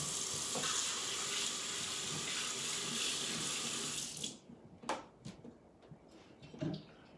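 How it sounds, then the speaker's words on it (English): A funnel rinsed under a running tap, with a loud, steady rush of water into a sink for several seconds before it shuts off, followed by a few faint drips and clatters nearby, with no talk. "I'm going to go over and rinse my funnel."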